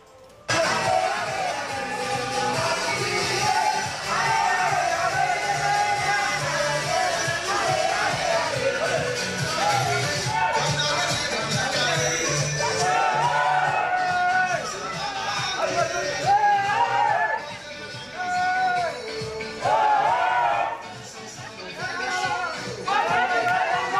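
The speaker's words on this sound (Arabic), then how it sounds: "لما دخلوا احدى السوبر الماركت واحتفلوا شويه مع العاملين" Algerian football fans celebrating alongside workers inside a supermarket, a loud mix of overlapping voices, chatter and crowd noise that swells and dips throughout.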